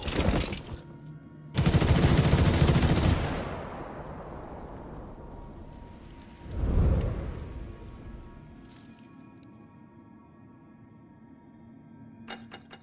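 Gunfire from units firing in a Duet Night Abyss cutscene, a loud burst of rapid shots followed by a decaying rumble, then a second thudding blast and fading echoes with faint clicks.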